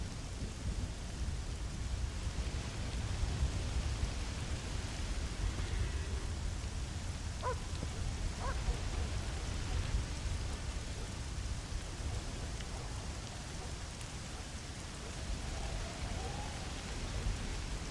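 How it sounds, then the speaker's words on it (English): Steady, moderately loud rain hisses down in a western landscape in Red Dead Redemption, a continuous wash of falling water with low rumbling underneath and a couple of faint clicks, with no voices. "Not more rain."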